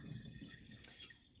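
Water splashes and drips as sprouting seeds are rinsed over a kitchen sink, a soft, close trickle with a couple of brief brighter splashes.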